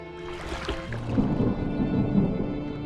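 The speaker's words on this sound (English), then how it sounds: "Was that thunder? Still distant." Distant thunder rumbles low and steady with rain in a stormy scene from the video game Draugen, heard near a rowing boat out on the water, with no voices.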